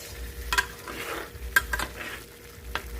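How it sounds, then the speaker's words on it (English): Tomato sauce with salt, pepper, parsley and basil sautés in a pan for a vegetarian meatball sub, a soft bubbling sizzle punctuated by several sharp spoon-against-pan stirring clicks up close. "And then let it saute for about 5 minutes."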